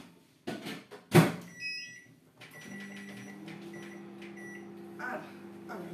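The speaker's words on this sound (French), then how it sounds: "je vais mettre ceci au micro-ondes, que je vous dise pas de bêtises, 3 minutes à 600 watts" A microwave oven set to run three minutes at 600 watts while courgette spaghetti is prepared: a sharp clunk of the door, a couple of beeps, then a steady low hum as it runs.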